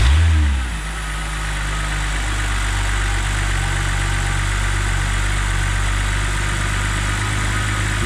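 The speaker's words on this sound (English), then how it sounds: "Let's try and start the car" A BMW engine cranks and catches, then settles into a steady, loud idle with a low drone and faint belt whine after a shorter belt is fitted to bypass the AC compressor.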